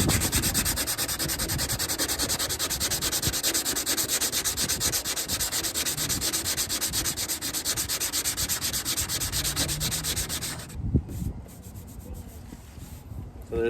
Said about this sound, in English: so we still need to sand quite a bit